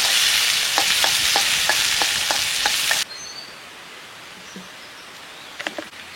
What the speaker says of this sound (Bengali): পেঁয়াজটা একটু ভাজা ভাজা করে লাল লাল করে ভেজে নিয়ে তারপর অন্য মশলাগুলো দেবো